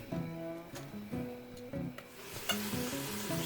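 Bacon sizzles and crackles as it crisps in a Dutch oven, with occasional scrapes from stirring and soft background music running beneath the frying.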